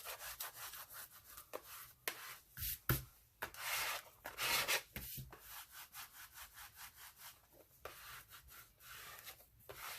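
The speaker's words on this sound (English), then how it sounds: "I'm going to use the same spatula again, just to get it down there nice and even. Spread that glue out." A spatula spreads glue evenly across a small handmade wooden clipboard, making close, repeated scraping and rubbing strokes in an irregular rhythm, with a few louder swipes, and no voices.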